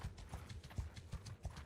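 Horses' hooves clip-clop in a quick, steady rhythm in the medieval game Mount & Blade, fairly faint and unaccompanied by talk.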